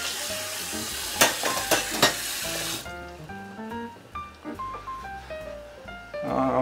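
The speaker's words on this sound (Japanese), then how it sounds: "で、肉を焼きます。" Meat sizzles and fries in a pan during a morning cooking routine, a loud hiss at first that drops to a quieter crackle under clinking and kitchen movement, with louder sizzling returning at the end.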